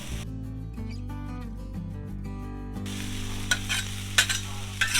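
Meat for a Philly cheesesteak sizzles in oil on a Blackstone griddle as a spatula stirs it, with scraping clicks rising over the steady frying hiss, below an electronic musical hum.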